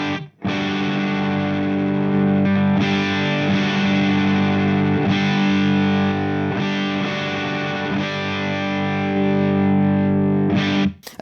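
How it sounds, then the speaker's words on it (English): Electric guitar played through a Two Notes Torpedo Captor X reactive loadbox with its enhancer engaged, a heavily distorted sustained chord ringing steadily and loud, restruck a few times with brief pick attacks before cutting off near the end. "Let's see what the enhancer does."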